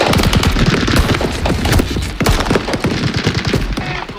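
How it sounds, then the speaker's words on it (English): Dense, continuous gunfire from the Waco siege: rapid volleys and overlapping bursts of shots, loud and relentless throughout, with no talk. "Gunfire like you wouldn't believe."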